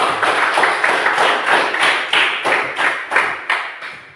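A classroom of students clapping together in a steady rhythmic beat, about two claps per second, close and even, slowing slightly toward the end.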